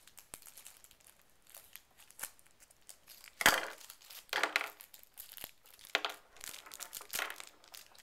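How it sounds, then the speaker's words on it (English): Plastic wrapping on a pack of crayons being cut and torn open, close crinkling and rustling in irregular bursts with a few sharp snips and crackles, no talking. "there's also a pack of crayons. Let's get that open."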